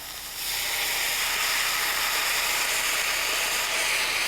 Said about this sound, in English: I've got some dry white wine here that I'm going to deglaze with.